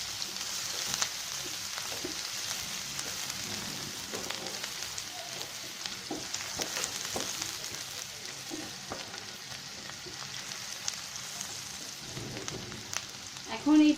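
Very thinly chopped onion frying in hot oil, a steady close sizzle with occasional stirring scrapes, and nobody speaking.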